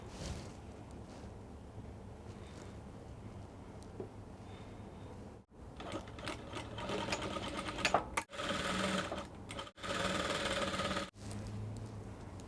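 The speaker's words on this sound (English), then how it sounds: "you take to your machine and then you join together on the waistline" A sewing machine stitches a dress skirt to its bodice at the waistline, whirring in several close, steady bursts separated by short pauses.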